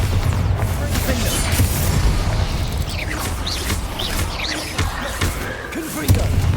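Spell blasts from Bombarda and Confringo in the Hogwarts Legacy video game, dense booming impacts and whooshing bursts over a busy, continuous combat mix with a voice casting spells.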